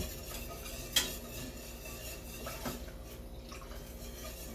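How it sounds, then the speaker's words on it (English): A whisk works through a thick milk sauce in a pot for baked mac and cheese, giving soft, faint swishing with a sharp metal clink near the start and another light knock later, steady and close. "Just want to keep on whisking."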